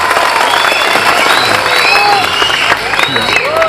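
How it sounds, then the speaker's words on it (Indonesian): Loud crowd applause and cheering break out at an Islamic religious gathering (pengajian) in Indonesia, with whistles and voices over the steady clapping throughout. "Tepuk tangan untuk Pak Bupati."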